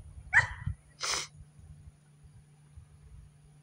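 Dogs indoors give two short, sharp sneeze-like snorts or huffs close to the microphone, followed by quiet breathing and low background hum.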